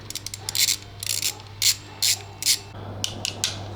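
A ratchet wrench fitted with a 12-point socket clicks in quick close bursts while a bolt is loosened on a Kia Sportage, several separate rounds of rapid pawl ticking over a steady low hum.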